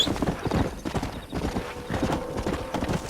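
A horse's hooves clip-clop steadily at a walking pace in Red Dead Redemption, near and continuous, with a faint whinny, while someone speaks Hindi over it.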